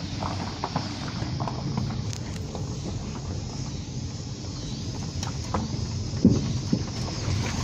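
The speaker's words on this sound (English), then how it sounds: "This is a little baby horse." Soft hoof clops and shuffling from a baby pony sound nearby over a steady wind and engine rumble outdoors.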